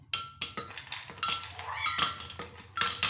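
Ice cubes dropped one after another into a juicer jar for a mango milkshake, giving a series of sharp, hard clinks and clatters at irregular intervals, close and distinct with no talking.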